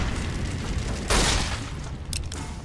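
A fire gecko in Fallout: New Vegas breathes fire, a sudden loud roaring whoosh that flares for about half a second, then fades into faint sharp pops over a low background rumble.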